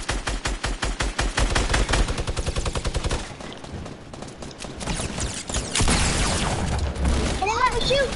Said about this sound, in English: Stop shooting me out of the air